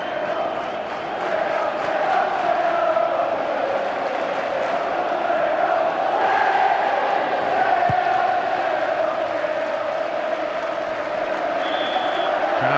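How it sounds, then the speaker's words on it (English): A packed football stadium crowd at a 1992/93 English top-flight match between Oldham Athletic and Southampton makes a steady, loud roar of cheering and shouting as a Mexican wave goes round, with a broadcast commentator talking over it. "Crowd in good heart now,"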